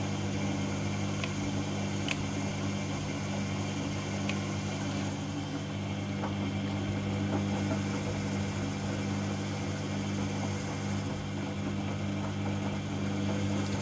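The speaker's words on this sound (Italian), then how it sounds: "Adesso sta facendo le rotazioni intensive." A Privileg 3420 washing machine turns its drum in intensive rotations during a heated rug wash, giving a steady mechanical hum with faint clicks and ratcheting.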